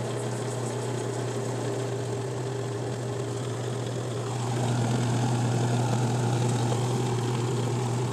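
A washing machine with its front panel removed runs steadily, a loud constant motor hum and drone that swells slightly partway through.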